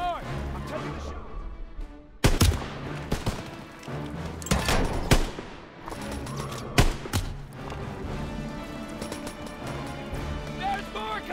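Gunfire in a Call of Duty battle, sharp bursts and heavy volleys cutting through a dense combat soundscape while soldiers shout orders over the noise.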